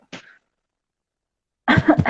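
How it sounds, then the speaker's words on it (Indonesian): A single short, sharp cough at the start, then silence before a voice begins talking. "kenapa jadi batuk?"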